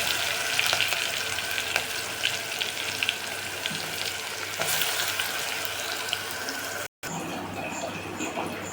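Green chillies frying in hot oil in a pan, a steady close sizzle and crackle with faint clinks and kitchen noise, continuous throughout with a brief dropout near the end.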